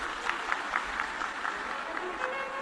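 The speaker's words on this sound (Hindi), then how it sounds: "जोरदार ताली बजाएं।" A crowd claps at a Shiv Mahapuran religious discourse in Sirsa, Haryana, with a steady wash of applause and faint rhythmic accents under a noisy hall ambience.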